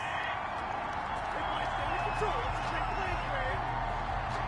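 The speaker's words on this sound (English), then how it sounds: "Well, the crowd doesn't like that." A distant stadium crowd murmurs and grumbles in disapproval after a penalty flag at an NFL football game, a dense low roar holding steady throughout.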